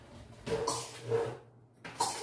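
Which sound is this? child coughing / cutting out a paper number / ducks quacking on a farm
child coughing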